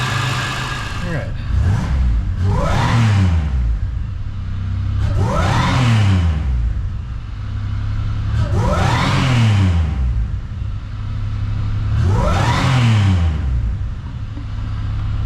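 A supercharged Pontiac 6000 wagon engine, repaired after a heavy misfire, revs up repeatedly in four strong, rising bursts, settling back to a smooth steady idle between them, loud and close.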